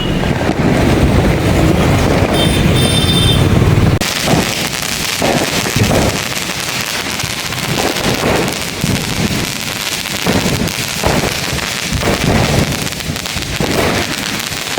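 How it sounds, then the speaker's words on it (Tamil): Firecrackers going off in the streets of Chennai, with loud sharp bangs repeating irregularly over steady wind and outdoor noise, and a dense roar at the start. "எங்கே பார்த்தாலும் பார்த்தீங்கன்னா வெடியாக கொளுத்தி கொண்டே இருக்காங்க"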